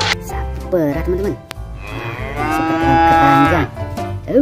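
A toy cow moos in a long drawn-out call after a shorter one, with a voice speaking briefly around it.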